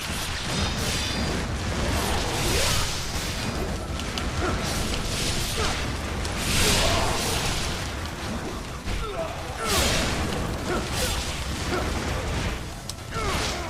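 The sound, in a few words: explosions in the video game Ninja Gaiden II Black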